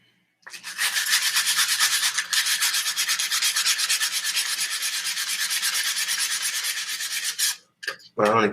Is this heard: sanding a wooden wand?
yes